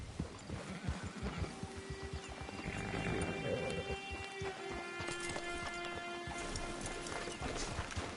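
A horse in the video game Red Dead Redemption Online clip-clops along in a steady rhythmic hoof beat, with a snort or whinny partway through and faint ambient outdoor sounds, moderately quiet.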